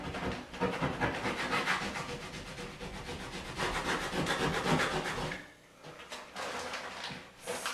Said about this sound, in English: Burnish it on.